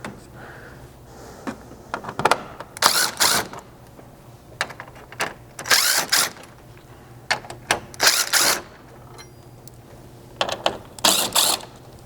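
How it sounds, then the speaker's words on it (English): Removing 10mm screws from a bumper panel on a Lexus GX 460: repeated mechanical ratcheting bursts, several clustered clicks at a time, close and fairly loud, with quiet pauses between and no talking. "you're just going to have 4 10mm screw heads up here that you're going to have to remove"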